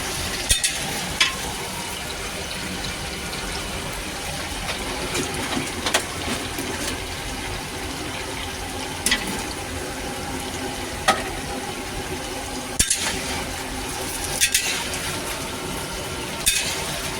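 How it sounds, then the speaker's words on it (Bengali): Potatoes frying in a large pan for a big cooked meal at a festival kitchen, a steady broad sizzle with watery hiss and occasional clanks of utensils throughout, no voices. "এখন জবরদস্ত আলুগুলো ভেজে নিচ্ছে"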